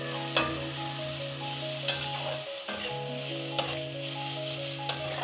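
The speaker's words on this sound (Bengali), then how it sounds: "গাজরটা একটু ফ্রাই করে নেব।" Grated carrot fries in hot ghee with bay leaf for carrot payesh, a close continuous sizzle broken by a few sharp stirring scrapes, with soft tonal background music underneath.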